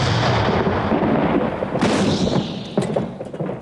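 World War One artillery fire as a dense, sustained roar of distant and near gun blasts and rumbling booms, loud and continuous, with a few sharper reports standing out near the end.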